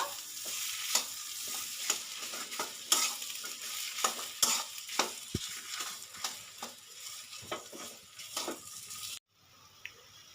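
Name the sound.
potato being stirred into a frying pan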